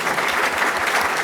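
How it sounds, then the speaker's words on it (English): A crowd claps in steady, dense applause at a public forum on Chicago city finances, with the sound close and continuous throughout and no voices over it. "Round of applause."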